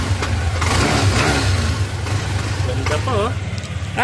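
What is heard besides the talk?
motor scooter engine revving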